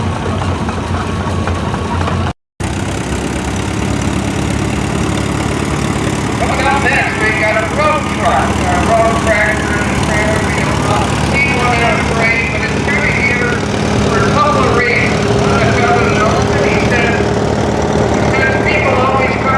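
Antique tractors, including Oliver models, idle and rumble in a steam engine association parade, a steady low engine drone with knocking pulses up close while voices talk over the running machines.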